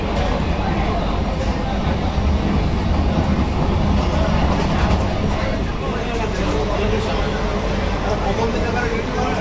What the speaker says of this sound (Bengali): থ্রু পাস করবে গাড়ি।